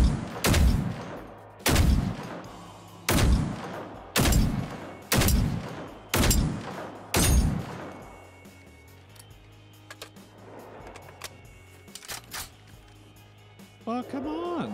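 Seven loud, evenly spaced gunshots ring out in the video game Generation Zero, each with a sharp crack and rolling tail, followed by quieter clicks and background game noise.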